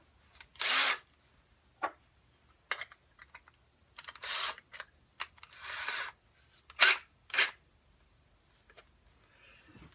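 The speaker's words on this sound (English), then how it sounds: "just a battery variable speed drill" Battery variable speed drill with a 2-inch diamond-encrusted bit, whirring in short bursts of about a second each, starting and stopping repeatedly with quiet gaps between, close up and moderately loud.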